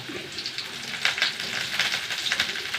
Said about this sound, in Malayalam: കുറച്ച് വെളിച്ചെണ്ണ ഒഴിച്ച് കൊടുക്കും അഞ്ചാറ് ചെറിയുള്ളി കറിവേപ്പില